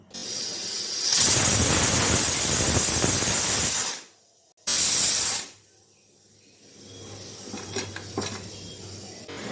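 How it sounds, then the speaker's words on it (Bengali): A pressure cooker boiling chickpeas with a little salt lets out a loud, sustained steam hiss for several seconds, cuts off, bursts again briefly, then fades to a low simmering rumble. "এই ছোলাটাকে এখন প্রেশার কুকারে দিয়ে দেবো একটু সামান্য লবণ দিয়ে তিন থেকে চারটে সিটি মেরে নেবো"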